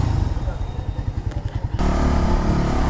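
A Suzuki Bandit 150cc motorcycle pulls hard in second gear nearby, its engine throbbing in a quick pulsing rhythm before swelling into a louder, steady roar.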